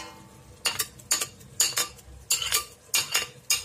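Garlic, ginger and green chilli paste stirred in a pan for chicken biryani, with a metal spoon scraping and clinking against the pan in repeated short bursts, about seven strokes, close and fairly loud with no talk.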